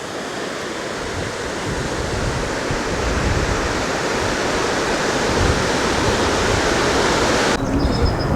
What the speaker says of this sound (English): Some more rapids down here.